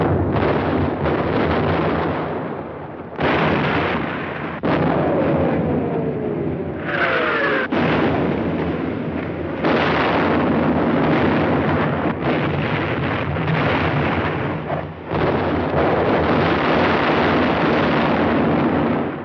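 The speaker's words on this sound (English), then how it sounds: "Artillery were deadly accurate by reason of excellent enemy observation from Mount Lungo" Artillery fire from the 1945 Italian campaign at San Pietro, near Mount Lungo, as recorded for a wartime documentary: loud, continuous booming and crackling bursts with heavy rumble, repeated sharp blasts and a brief whistling sweep around the middle.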